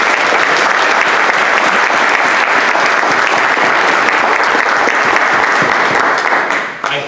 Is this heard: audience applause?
yes